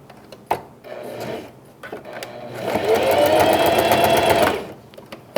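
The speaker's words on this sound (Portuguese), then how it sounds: "Vou costurar e vou travar do outro lado." Close up, a sewing machine stitches a pet bandana, with a few short clicks and bursts at first, then a sustained whirring run of stitching that stops near the end.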